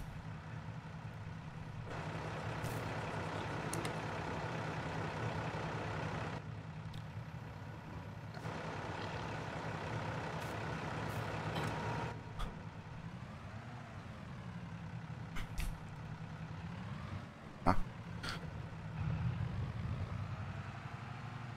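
A tractor in Farming Simulator 22 rumbles steadily at low throttle while shunting, its engine note rising and falling with occasional clanks and a sharp metallic knock, heard up close for a long stretch.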